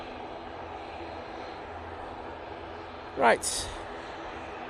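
An Embraer E2 jet airliner at Manchester Airport, bound for Amsterdam, rumbles steadily in the distance, with a brief louder swell near the end and someone talking over it.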